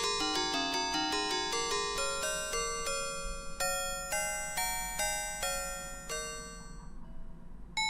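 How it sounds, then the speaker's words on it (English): Bright FM synthesizer music from a Commodore 64 with an FM-YAM cartridge plays a fast sequence of bell-like chiptune notes stepping up and down, ringing with a metallic decay, ending in a fade. "the sounds you hear are coming straight from the C64"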